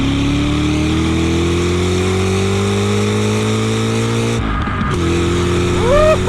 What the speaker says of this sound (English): And it loves to rev too.